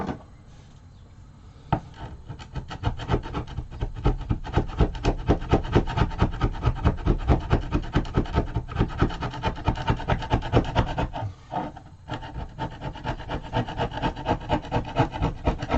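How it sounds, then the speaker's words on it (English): Chisel scraping away ballast on a model railway layout, a close, continuous rhythmic rasping and scratching with repeated strokes, pausing briefly partway through before resuming. "In fact, I'll use the chisel."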